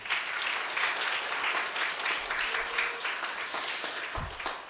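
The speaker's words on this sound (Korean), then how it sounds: "한번 박수하겠어요" A church congregation at a Sunday afternoon worship service claps together for a men's mission group, a full, even burst of applause that holds steady and fades slightly at the end.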